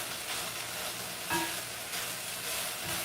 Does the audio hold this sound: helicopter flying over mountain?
no